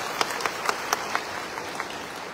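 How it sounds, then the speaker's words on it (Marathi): An audience claps for a speaker at an outdoor government housing scheme event in Maval, Pune, with sparse, evenly spaced hand claps ringing out over a low background murmur. "त्यांच्यासाठी एक वार जोरदार असा टाळ्या झाल्या पाहिजे"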